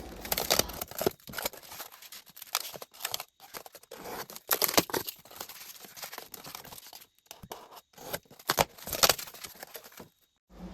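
Foam is cut by hand while building a Hot Wheels diorama, giving irregular bursts of close, crisp tearing and crinkling sounds with brief pauses between cuts and no voices.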